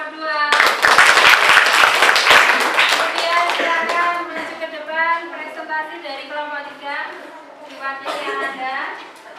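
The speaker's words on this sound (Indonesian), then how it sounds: "kita beri aplaus untuk kelompok 2" A classroom of students claps for a presenting group, a loud burst of applause that fades after a few seconds into continued talking.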